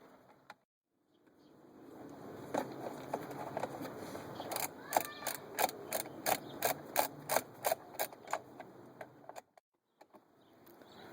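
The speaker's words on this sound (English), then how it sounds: "And we're taking those Torx head screws out." A ratcheting driver clicks rapidly in a series of sharp, close bursts as Torx head screws are backed out of the steering wheel on a 2004 Land Rover Discovery II, with short pauses between runs.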